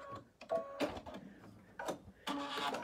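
Sewing machine running in short bursts while stitching a quilt-as-you-go block and finishing with a lock stitch, several quick mechanical runs separated by brief pauses, close and moderately loud.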